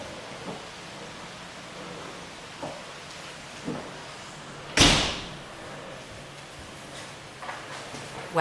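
A door pushed shut during heavy, windy English rain: steady rain hiss with a few soft knocks, then one loud, close slam midway and another thump at the very end.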